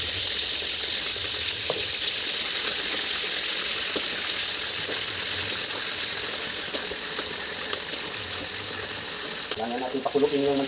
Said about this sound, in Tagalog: Kailangan natin pakuluin yung mantika para medyo makulay yung karne.